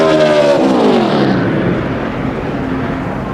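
A NASCAR Nationwide Series race car on a 2010 qualifying lap at Fontana roars loudly past, its engine note sliding downward as it goes by and then fading into a steady, more distant rumble.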